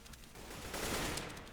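Gunfire in Counter-Strike on the Cache map during a TyLoo vs. LGD match, with the USP pistol named, comes as a dense, steady burst of shots with no clear gaps between them. It is heard mid-distance with no voices over it.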